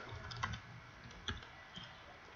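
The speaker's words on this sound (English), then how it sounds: "Let me type up the list" Computer keyboard being typed on at a desk, a few soft, sparse key clicks in short bursts against a quiet room hum.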